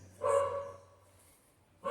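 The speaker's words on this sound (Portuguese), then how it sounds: "Desculpa, esse cachorro fica latindo." A dog barks nearby indoors, one sharp, loud bark followed by the start of another after a short gap, clear against a quiet background.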